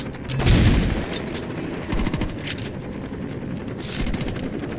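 Rapid gunfire with a helicopter overhead in the video game Saints Row 2, a dense continuous rattle of shots with louder swells over a steady rotor-like rumble.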